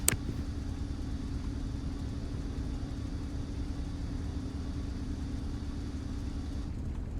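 A P-51 aircraft engine runs in the IL-2 Sturmovik flight game, a steady, even low drone holding constant after a brief click at the start.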